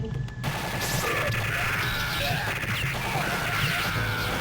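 Constant explosions and gunfire in Metal Slug 4, a dense, loud, unbroken barrage of crashing blasts and rattling shots filling the whole stretch without pause.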